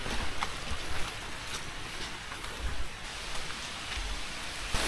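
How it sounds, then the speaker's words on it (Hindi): Steady monsoon rain patters on the ground along a hillside trek route up Mangad fort in Mangaon, a dense, even hiss of drops with a few louder nearby splats and no talking. "बारिश ने स्वागत कर लिया अभी हमारा"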